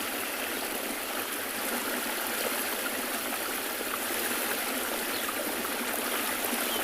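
Water flows in a stream in the South African bush, a continuous, full rushing and gurgling wash heard close and steady from start to finish with no voices.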